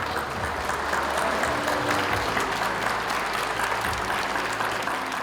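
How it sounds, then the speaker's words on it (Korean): Applause from a church congregation in Incheon greeting an elderly professor as he comes out, dense steady clapping filling the room from start to finish with no talk over it. "우리 교수님 나오실 때 뜨겁게 큰 박수해 주시기를 바랍니다."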